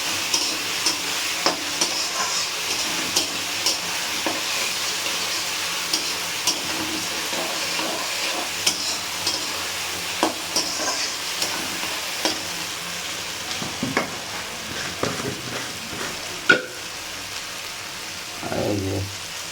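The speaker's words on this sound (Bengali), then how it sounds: "দিয়ে ভালো করে এটাকে কষিয়ে নেব।" A spice paste of cumin, chili, ginger and garlic fries and sizzles in a pan while being stirred, with a continuous hiss and occasional scraping knocks of the spoon, close up and without speech.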